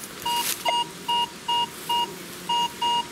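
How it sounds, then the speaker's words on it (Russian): Metal detector in a forest sounds a non-ferrous signal, a series of about eight evenly spaced, clear electronic beeps repeating in a steady rhythm. "Наконец-то после получасового блуждания по лесу первый цветной сигнал."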